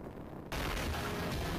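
A rotating Gatling gun in a video game cuts in abruptly after a quiet moment, erupting into a dense, continuous roar of rapid fire that holds loud to the end.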